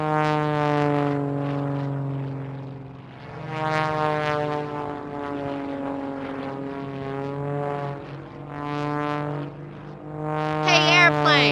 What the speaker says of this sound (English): Look, there is an airplane.